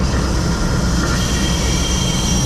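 Chemical product rushing through a tanker unloading line after a valve is reopened, a steady, loud broadband hiss and roar with faint high whine, continuous and without talk.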